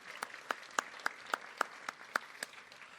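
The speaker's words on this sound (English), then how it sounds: "Another round of applause for our new members." A small group at a morning business networking event claps for new members, quiet, sparse hand claps landing in an even, steady rhythm with a low room hum underneath.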